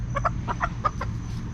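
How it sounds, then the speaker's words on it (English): A rooster clucks in a quick series of short, close notes over a low steady background hum. "This is the rooster."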